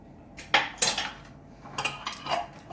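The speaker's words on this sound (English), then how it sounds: "Give it a good stir just to get the excess off the spoon." A metal spoon clinks and scrapes against a jar while stirring tahini, giving a few sharp, close taps and rattles in an otherwise quiet kitchen.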